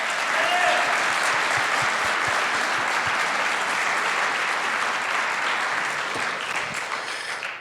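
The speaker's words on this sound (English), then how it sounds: "please, let's give a round of applause" A large conference audience at ng-conf 2024, an Angular developer event, applauds in a dense, steady burst of clapping that holds strong for several seconds before tapering slightly at the end.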